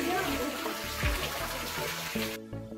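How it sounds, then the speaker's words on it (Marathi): A waterfall at a hill temple that flows year-round gives a continuous rushing wash of water, heard with music over it before the sound cuts off near the end. "सगळ्यात आधी आपल्याला दिसतो तो म्हणजे हा धबधबा। हा धबधबा 12ही महिने चालू असतो।"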